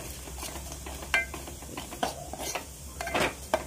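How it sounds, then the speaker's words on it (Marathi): Spice masala of red chili powder and turmeric fried and stirred in a pan for Maharashtrian egg curry, a soft sizzle broken by several scraping clinks of a spoon against the pan. "आता ह्याला चांगलं फ्राय करून घेऊया। आपण मसाला भाजून घेऊया।"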